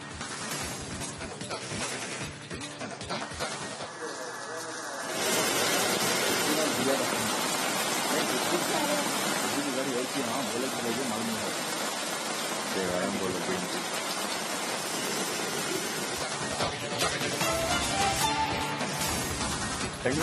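Heavy rain falls in Bengaluru during flooding, a steady dense hiss that swells after a few seconds and holds unbroken, with some voice and background sound at the start.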